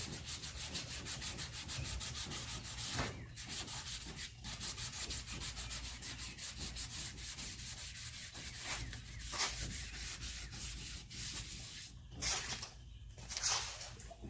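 Hand sanding on the body of a 1969 Dodge Dart before paint, a fairly quiet, steady rhythmic rubbing of many quick back-and-forth strokes with a few louder passes.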